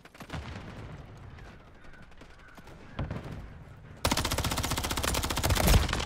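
Rapid automatic gunfire from the Rival 9 in Modern Warfare 3, with faint game noise for the first four seconds, then a dense, loud, sustained burst of rattling shots.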